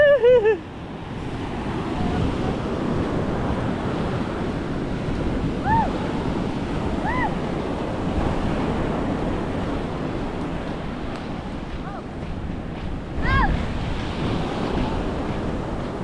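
Big ocean waves wash onto the shore in a continuous roar, mixed with wind buffeting the microphone, and a few faint bird-like chirps rising over the surf.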